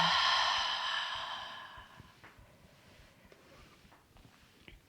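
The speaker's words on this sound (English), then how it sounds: "Take a breath." One long, audible exhale during a chair yoga session, close and breathy, tapering off gradually over a couple of seconds into near silence with a few faint clicks.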